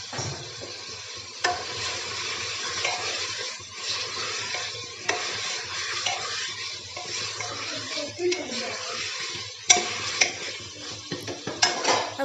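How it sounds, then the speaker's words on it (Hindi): Peanuts and tomato paste frying in a pan, a continuous close sizzle with stirring scrapes and occasional metallic clinks of a spoon against the pan. "अब डालेंगे हम सिंगदाना और टमाटर का पेस्ट, इसको थोड़ी देर फ्राई कर लेते हैं"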